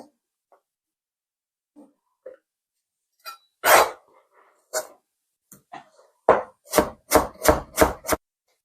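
A knife chops chilies and vegetables on a board: scattered quiet taps at first, then a quick run of sharp, crisp strikes near the end, close and alone.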